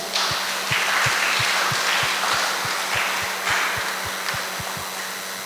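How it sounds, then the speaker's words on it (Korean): A church congregation claps in praise to God after a closing prayer at a summer retreat. Steady crowd clapping continues over a regular low thumping beat, at even loudness throughout. "자, 영광의 박수 하나님 앞"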